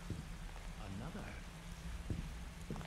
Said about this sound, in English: This is the rain sound generator. It's a barrel full of sand.